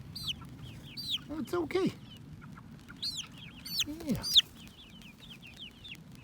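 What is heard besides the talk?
chicken clucking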